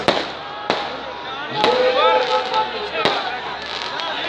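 Fireworks crack and pop at intervals at a political rally in Pakistan, several sharp bangs over a continuous rumbling, crowded background with whistling tones.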